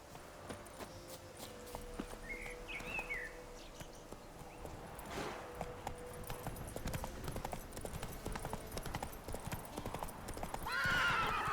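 Roach, a horse in The Witcher 3, clip-clops along at a steady walking pace with a whinny partway through, over faint game ambience and a brief murmur of speech.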